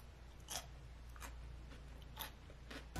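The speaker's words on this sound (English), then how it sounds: "I don't know if you can hear me chewing," Fresh, crispy green beans are chewed close to the mic, with a few sharp crunches spaced apart against a steady low hum and no talking.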